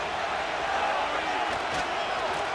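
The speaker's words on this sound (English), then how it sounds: "The crowd cranking it up another notch before 3rd" Stadium crowd in the Madden NFL 25 video game, a Pittsburgh at Buffalo wild card playoff game, a dense, steady roar of cheering that holds at an even level throughout.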